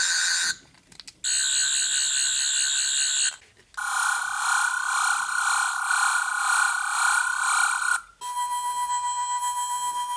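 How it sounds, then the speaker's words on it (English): Twelfth Doctor sonic screwdriver toy from Series 9 running through its electronic effects: a warbling, trilling whir, then a sustained pulsing whine, then a higher beeping tone, with brief pauses between modes, close and loud. "You get that really nice whirring sound with the almost strobe-like effect of the light going round and round."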